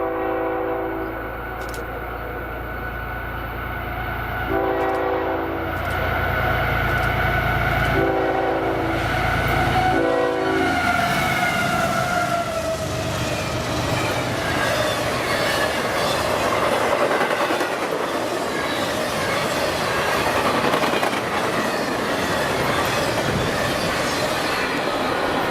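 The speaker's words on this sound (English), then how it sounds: "we see minutes later a westbound CSX intermodal train as it passes by the snowy" A westbound CSX intermodal train rolls past on snowy tracks, starting with a few loud horn blasts, then a long, steady roar of railcars with clattering wheels and some squeal, close by and loud throughout.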